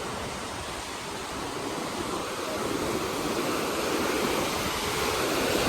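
Heavy, steady rush of river water in Kullu Manali after a flood, flowing past debris and a washed-out road near a bridge; broadband roar that swells slightly, close and loud, with no talking.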